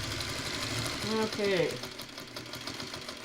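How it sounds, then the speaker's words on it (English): A sewing machine stitches pieces for a traditional quilt block, giving a steady mechanical rattling chatter close by. A voice speaks briefly partway through. "the normal crackle of a sewing machine and whatnot"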